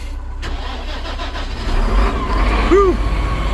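A utility tractor's diesel engine cranks and catches on a cold start after the glow plugs heat, rising into a rough, loud idle close by.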